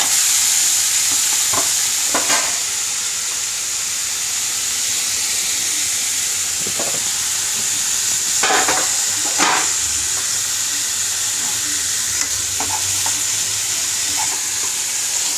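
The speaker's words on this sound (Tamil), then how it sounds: "வெங்காயம் இப்போ பாதி வதங்கிடுச்சு." Onions sauté in a pan with a light pinch of salt for a home-cooked okra pachadi lunch, a steady sizzle and hiss running throughout, broken by occasional scrapes and stirring clatters of a spoon.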